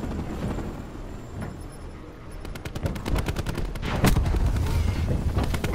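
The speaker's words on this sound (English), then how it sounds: "What's that shooting right there?" Rapid automatic gunfire from the shooter Black Ops 4 in a Kill Confirmed match against bots, loud crackling bursts that grow denser and heavier toward the end, with no voices.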